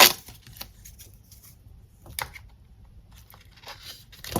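Shuffle Tarot card pack being torn open, a few sharp paper rips and crinkles with quiet rustling between them, close up, no talk.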